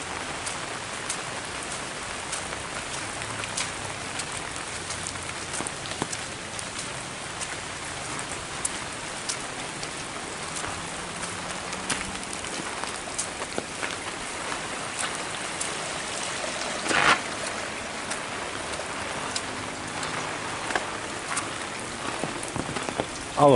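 Heavy rain pours down in a rural village, a loud, dense, continuous hiss of drops striking surfaces with occasional louder splashes and no speech.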